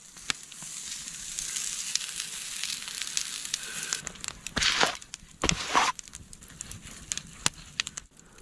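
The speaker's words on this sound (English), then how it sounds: "Our steak's just cooking away on the coals." Steak sizzles softly on campfire coals outdoors, a steady faint frying hiss broken by a few louder crackling bursts and rustles nearby.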